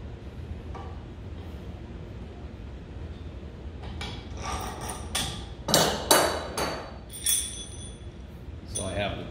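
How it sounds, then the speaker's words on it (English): Metal tools clank and knock while a bearing race is pulled from a Volvo Penta SX lower unit with an adjustable wrench, the clinks growing louder and sharper toward the end. "I'm going to take a adjustable wrench here and just pull that out"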